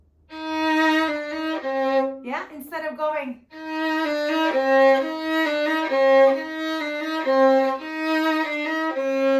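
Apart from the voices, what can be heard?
violin playing tenuto notes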